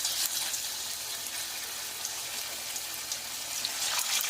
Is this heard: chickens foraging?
no